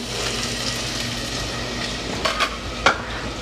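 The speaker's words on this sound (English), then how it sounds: "Give that a bit of a stir" Chopped onion stirred in a pan over medium heat: a steady soft sizzle with a few scraping utensil strokes near the end, close and alone.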